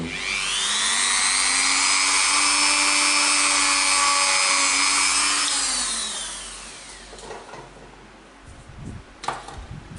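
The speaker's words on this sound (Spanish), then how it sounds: "veis que tengo preparado ya el taladro" An electric drill with a small bit works on a helmet lining, giving a loud, steady high-pitched whine for about five seconds. It then winds down and stops, leaving faint rustling and a few light knocks.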